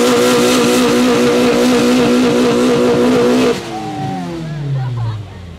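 A front-wheel-drive car at a car club meetup held hard on the throttle, a loud, sustained buzzing rev close by that cuts off sharply and drops into a falling, fading engine note.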